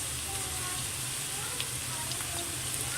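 Green chilies and curry leaves sizzle in hot oil for a stir-fried ladies' finger (okra) dish, giving a steady, close frying hiss with faint crackles and no speech.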